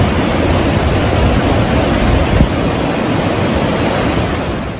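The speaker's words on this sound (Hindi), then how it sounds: "तूफानी हवाएं और तेज बारिश और समंदर में उछाल मारती ऊंची ऊंची लहरें" Towering storm waves surge across the open sea as a major storm sweeps through Asia with strong winds and heavy rain. The roar is loud, dense and continuous throughout, with no voices.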